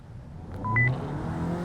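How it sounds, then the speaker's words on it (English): A Hyundai hybrid car launches in sport mode, with a short, low engine rumble swelling briefly as it pulls away, heard from inside the car. "I'm in sport mode and I'm about to launch it."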